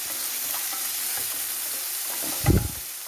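Soya curry with onion and salt sautés in a pan, giving a steady hissing sizzle throughout, with one brief louder clunk of a spoon or stir near the end.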